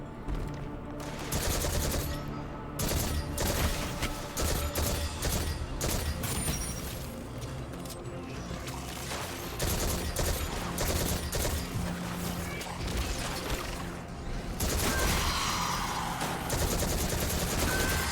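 Heavy gunfire from the video game Destiny 2, sniper shots among dense, loud bursts of shooting that run almost without pause under a layer of game music and effects.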